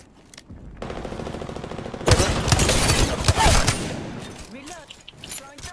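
Gunfire in a shooter video game, a dense burst of rapid automatic shots that starts after a quiet stretch of talking, loud and sustained for about two seconds, then tapering off with a few scattered sounds.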